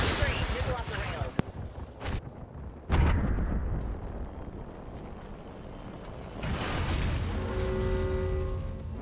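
Explosions booming in the video game Apex Legends arena mode as a missile barrage hits, with heavy blasts, rumbling debris and sharp pops, while a player talks over the game sounds.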